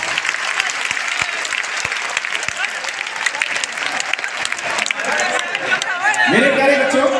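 Seminar audience at a maths meetup in Patna bursting into strong, dense applause that continues throughout, with crowd chatter and a voice emerging near the end.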